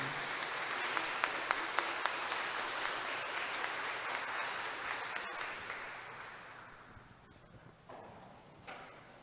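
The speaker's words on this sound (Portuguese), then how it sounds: "Podemos dar uma salva de palmas para a palavra" A church congregation claps in steady, full applause that gradually thins and fades out toward the end, followed by a few scattered sounds in the hall.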